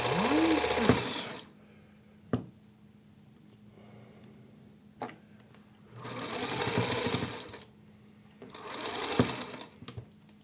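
A household sewing machine runs in short bursts, its motor whirring steadily for a couple of seconds at a time, with sharp clicks and pauses between runs and a faint hum underneath.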